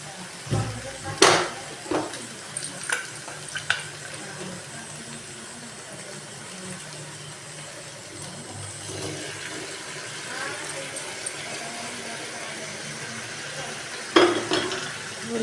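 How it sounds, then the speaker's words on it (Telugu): Boiled mutton being stirred into an Andhra-style drumstick curry in a pan: sharp utensil clinks and scrapes at the start, then a steady low sizzle with occasional stirring knocks near the end. "ఒకసారి బాగా తిప్పుకొని ఇప్పుడు ఉడికించిన మటన్ కూడా వేసేసుకోవాలి"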